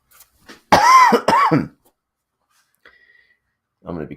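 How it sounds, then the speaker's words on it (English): A person coughs twice in quick succession, loud and close, followed by near silence with a faint brief tone and a short burst of low voice near the end. "I'm going to be coughing a little bit."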